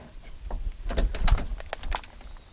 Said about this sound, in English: let me open the door real quick